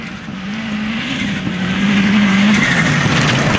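A Subaru rally car on the Rally Rushmoor 2005 stage drives past, its engine a steady loud drone that shifts pitch as it goes by, with a slight rise toward the end.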